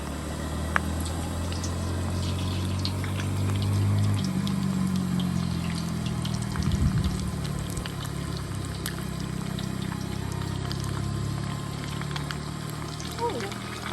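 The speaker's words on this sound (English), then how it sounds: "We're gonna fry them until they're nice and golden." Thai spring rolls deep-fry in hot oil, giving a continuous soft sizzle with scattered small crackles and pops, fairly quiet and steady throughout, with a low hum underneath.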